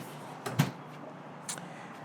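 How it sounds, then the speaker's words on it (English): Outdoor main door swinging shut with a soft thud and a faint second knock a second later, quiet against low background noise. "And doors closed."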